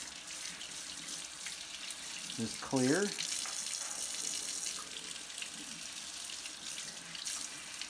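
Running water from a tap rinses parts of a Coleman Q99 generator during cleaning, with a steady hiss of flow and a brief splashing shift, while a person speaks briefly over it.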